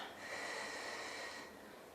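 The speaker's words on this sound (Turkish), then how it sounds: "Derin bir nefes al." A slow deep breath in and out during a home stretching exercise, a single soft airy breath lasting about a second and a half, close and quiet with no talk.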